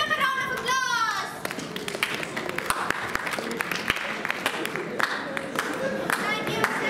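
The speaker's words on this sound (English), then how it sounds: "Let's give them a round of applause" Audience applause for competition finalists at a university World Theatre Day celebration, a steady patter of many hands clapping across the whole stretch with crowd murmur and children's voices mixed in, picked up from within the hall.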